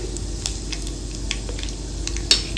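Black mustard seeds crackle and sizzle in hot oil, alongside fennel seeds, for a chilli pickle. Sharp pops and spits burst irregularly over a steady frying hiss, close and moderately loud.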